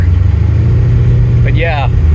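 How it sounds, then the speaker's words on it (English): A 383 stroker V8 in a Buick Sportwagon drones as a deep, steady low rumble while cruising on the highway, heard from inside the car, with a brief whoosh of passing wind. "just let you hear the beautiful sounds of that 383 stroker"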